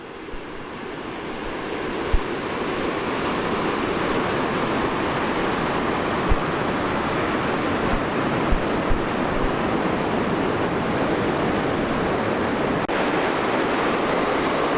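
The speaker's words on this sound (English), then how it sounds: "Look at how fast that water is moving." Fast-moving river water rushes steadily and loudly, a dense unbroken roar that holds for the whole stretch near the Skanee area, with a few faint knocks and no voices.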